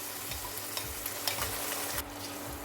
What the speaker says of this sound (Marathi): फोडणीमध्ये वाटण एक मिनिट परतून घेते